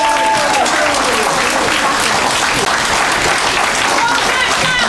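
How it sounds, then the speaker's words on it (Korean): A standing audience at a Seattle lecture applauds the speaker in dense, loud, continuous clapping that fills the whole moment, with a voice briefly heard at the start. "우리 일어나서 감사장 박수 한번 쳤으면 좋겠습니다"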